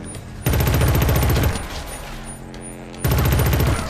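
Automatic weapon fire in the shooter Killzone Shadow Fall: two sustained bursts of rapid, loud shots with a quieter stretch of scattered fire and sounds between them.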